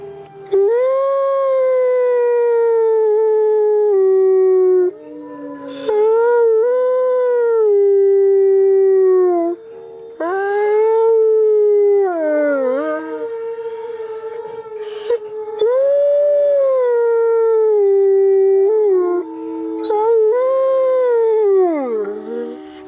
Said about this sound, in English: So I'll let you listen to Shadow's howl for a bit.